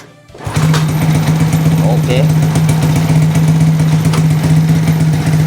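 A motorcycle engine starts up and settles into a steady, loud close idle, with a constant low hum after a brief quiet moment. Someone says a word over the running engine.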